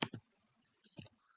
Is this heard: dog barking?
no